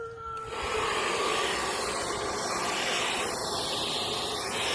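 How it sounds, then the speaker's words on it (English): A steady, loud broadband whoosh of a heat gun warming an Audi S3 trunk lid starts after a brief moment and runs continuously, with a sweeping airy hiss as it moves. "now you're going to want to warm up your trunk with your heat gun or hair dryer"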